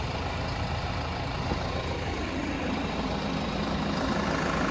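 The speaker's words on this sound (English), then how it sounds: "that thing, that tractor" A New Holland T4.95 tractor engine idles steadily nearby, a continuous low rumble with no change in pitch or pace.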